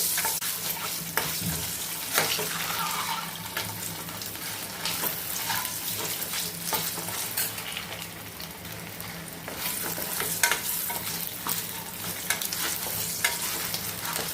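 Eggs fry in a pan with a steady, crackling sizzle that runs throughout, scattered with sharper pops and small clatters, close and fairly quiet, with no voices over it.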